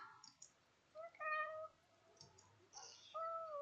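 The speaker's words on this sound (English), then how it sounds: "Meow, Dex, what do you want?" A pet cat named Dex meows twice, close and fairly loud, with short rising-and-falling cries and a brief pause between them in a quiet indoor room.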